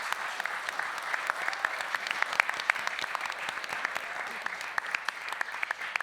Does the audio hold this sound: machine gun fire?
no